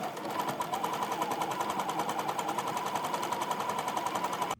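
A sewing machine runs a zigzag stitch along wrap-skirt fabric, a steady rapid mechanical whir with fast even ticking, close and moderately quiet, with no one talking.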